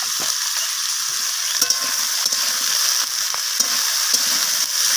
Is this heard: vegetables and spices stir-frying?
yes